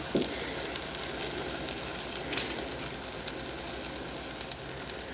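Egg mix cooking in a hot mini waffle maker gives a steady, quiet sizzle with faint crackles and a few soft pops, no talking over it.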